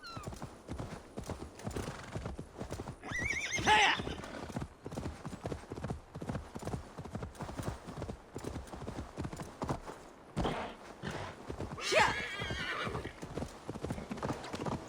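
Rapid rhythmic hoofbeats gallop steadily throughout, with two whinnies rising above them, in an Assassin's Creed Valhalla game soundscape at moderate volume.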